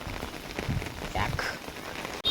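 Steady rain pours onto a flooded road during a cyclone in Kerala, a continuous hiss with soft splashing close by and no other clear sounds.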